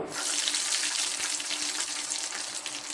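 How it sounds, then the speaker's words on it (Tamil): Green chillies dropped into hot oil in a kadai, giving a loud, steady, close-up sizzle and crackle that holds for the full three seconds without any talking. "இப்போ நம்ம ஆல்ரெடி கட் பண்ணி வச்சுருக்க பச்சை மிளகாயை சேர்த்துருவோம்"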